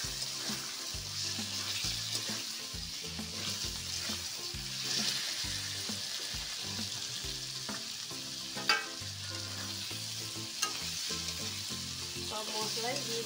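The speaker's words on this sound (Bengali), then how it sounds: "এবার আমি দিয়ে দিচ্ছি জিরে আর কাশ্মীরি লঙ্কার গুঁড়ো আর হলুদ।" Cumin, Kashmiri chili powder and turmeric sizzle in hot oil with a steady, close frying hiss and scattered crackles over several seconds, with occasional stirring clinks.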